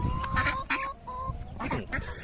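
Hens about 1.5 years old clucking and cackling nearby, several birds calling in short overlapping bursts against a steady farmyard background.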